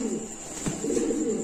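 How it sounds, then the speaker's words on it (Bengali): Lahori pigeons at a pigeon farm give soft, low cooing close by over a steady background hum. "দর্শক আমরা একটু হাতে নিয়ে আপনাদের দেখাচ্ছি কবুতর গুলা।"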